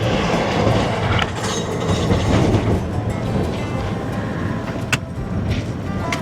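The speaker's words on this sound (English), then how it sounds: "So it wasn't a truck, it was a caravan, a big one." A large vehicle towing a big caravan rumbles past on a rough outback track in the Northern Territory, with loud continuous road roar and rattling that gradually eases as it moves away.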